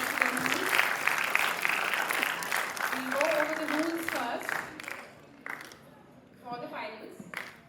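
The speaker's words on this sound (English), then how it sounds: "A big round of applause to them too." An audience claps steadily for several seconds at a school students' military history quiz finals while a person speaks over it, then the applause fades out into quieter talk.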